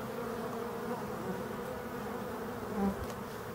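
Black honeybees buzz steadily around open hives in Brittany while foraging ivy and phacelia, a dense, continuous close drone with no voices.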